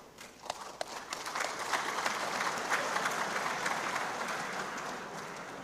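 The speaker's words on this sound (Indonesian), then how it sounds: "Tepuk tangan meneh." Audience applause in a large hall at a political speech to a national working meeting, a dense steady clapping that swells after a second and holds at full strength throughout.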